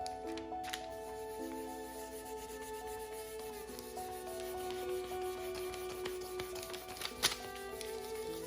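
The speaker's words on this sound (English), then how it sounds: "I also like to go over the design with a really fine grit sandpaper, fine grit, just to make it look like the design's lived on there" Fine grit sandpaper rubbing over a painted design on thrifted furniture, a soft steady scratchy rasp close up with faint tonal background music and a few light taps.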